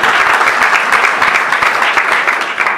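An audience at a university event in Kenya claps loudly and continuously in a dense, crackling burst of applause.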